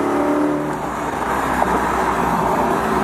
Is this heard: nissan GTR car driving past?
yes